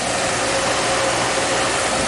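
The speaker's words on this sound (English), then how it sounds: "we're letting the pump work" A swimming pool pump runs during a pool opening, giving off a loud, steady broadband rush with a faint tonal hum that stays even and close the whole time, with no talking.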